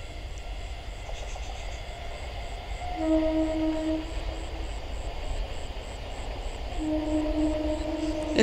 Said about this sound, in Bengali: বনগাঁ থেকে ছেড়ে চলে যাচ্ছে শিয়ালদায়।